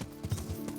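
Horse hooves in the video game Kingdom Come, a quick run of muffled clip-clop steps with a steady rhythm over a busy game background, close and moderately loud, with no talking.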